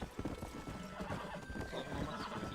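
A horse's hooves clip-clop in the Red Dead Redemption game, a quick irregular trot close by, moderately loud, mixed with faint snorting and game ambience.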